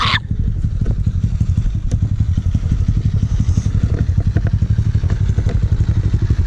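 A motorcycle ridden over muddy ground gives a steady, close engine drone with rapid pulsing throb and occasional clattering knocks, continuous and loud from start to finish.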